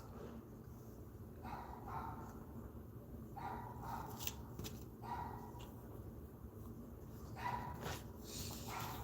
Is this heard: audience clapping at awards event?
no